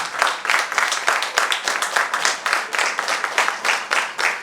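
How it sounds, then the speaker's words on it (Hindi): Crowd applause at a book launch and world record celebration, many hands clapping in a sustained, lively wash with rhythmic surges. "Please give a huge round of applause."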